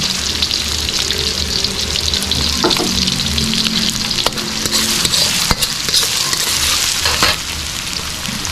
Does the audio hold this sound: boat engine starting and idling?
no